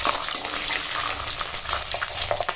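Bay leaves, cashews and raisins are tossed in hot oil and ghee, giving a loud, continuous close-up sizzle with a watery, bubbling texture and faint stirring movement throughout.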